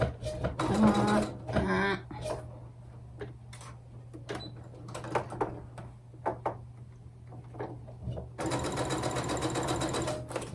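An old sewing machine quilting through thick seam intersections: loud bursts of rapid stitching at the start and again at the end, with a steady motor hum and scattered clicks and thumps in between.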